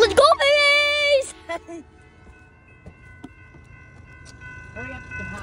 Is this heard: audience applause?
no